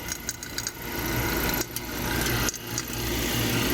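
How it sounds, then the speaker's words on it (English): A vacuum pump hooked to the A/C system of a 1990 Ford F Super Duty diesel conversion hums with a steady mechanical drone, loud and close, broken by a couple of brief dips. "Switch on the vacuum pump."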